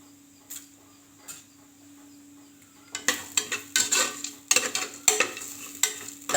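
Cumin and coriander seeds dry-roasting in a pan, quiet at first, then a spoon stirring with rapid light scraping and crackling taps, close and faint.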